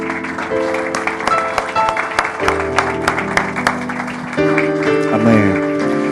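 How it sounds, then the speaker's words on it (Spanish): A church congregation applauds during worship, rhythmic clapping mixed with sustained organ or keyboard chords and some voices, fairly loud and close. "Den un aplauso fuerte al Señor."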